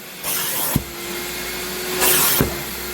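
A wet vacuum suctions water from a leaking Chevrolet Impala trunk in two short bursts of whooshing suction, separated by a quieter hum, with a small thump at the end of each burst.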